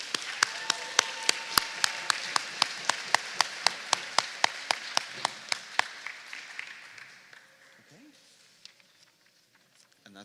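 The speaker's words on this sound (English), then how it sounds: "let's give another round of applause to all of our Huu-ay-aht Citizens of the Year." Crisp, evenly spaced claps ring out close by at a First Nations annual people's assembly to honour the Citizens of the Year, keeping a steady beat before thinning and fading as a voice briefly surfaces near the end.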